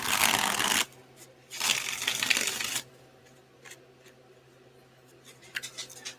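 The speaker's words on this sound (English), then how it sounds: "my dog wants to come inside right while I'm shuffling" Tarot cards are shuffled in two loud riffling bursts, each lasting about a second, followed by quieter soft card taps and slides close to the microphone against a low steady hum.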